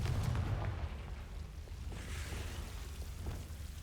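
A Confringo fire spell explodes in Hogwarts Legacy, giving a loud, rumbling blast that rolls on as a dull, crackling roar and slowly fades, with no voices.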